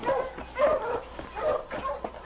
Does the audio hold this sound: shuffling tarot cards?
no